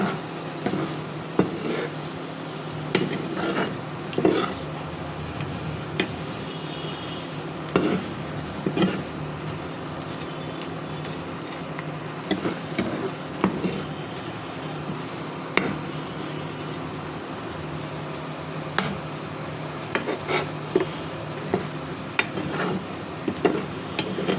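Shrimp and potato curry in a pan, stirred with a spoon while the gravy sizzles and reduces, giving a steady low sizzle with scattered scraping clicks and knocks throughout.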